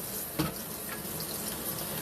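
Warm water runs steadily from a kitchen tap during dishwashing, a close, even hiss with one brief knock near the start.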